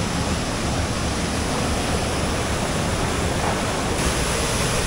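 Waterfall in a rocky river area of Trece Martires, Cavite, a loud, steady broadband roar of crashing water that stays constant throughout with no voices over it.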